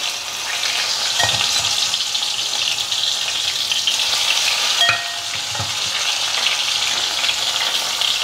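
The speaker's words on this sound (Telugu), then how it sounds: "కరివేపాకు టప్ టప్ అంటుందని అవి కాగంగానే కంపల్సరీ టప్ టప్ అనాలి" Curry leaves crackle and spit in hot oil with cumin and dried red chillies, a steady close sizzle dotted with sharp pops, with no voices.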